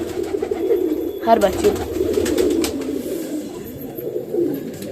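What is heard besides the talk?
Banarasi pigeons cooing in a loft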